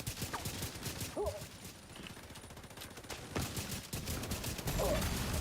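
Explosions and rapid weapon fire in a PvE shooter game, several sharp booming bursts layered over a dense stream of gunshots, loud and close throughout.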